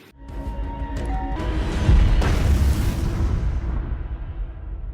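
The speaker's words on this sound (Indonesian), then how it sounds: "Ledakan tersebut sudah terjadi" A deep explosion swells into a heavy, rumbling boom that lingers and slowly fades away.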